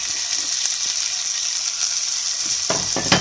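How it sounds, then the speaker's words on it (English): Tomatoes go into hot oil in a pan while salted cod fish bakkeljauw is cooked, giving a steady, loud sizzle with a few stirring scrapes near the end. "So we're going to add our tomatoes next."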